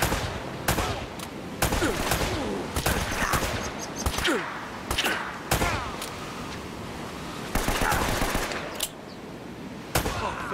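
Bursts of automatic gunfire in the action video game Uncharted: Drake's Fortune, loud repeated shots cracking in uneven volleys over a constant roar of ambient noise, with no talk.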